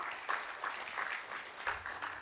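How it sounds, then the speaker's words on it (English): A brief round of applause rises at a startup pitch event, a scattered group clapping with slightly uneven bursts, fairly quiet and without talk. "let's give a big round of applause to Mika"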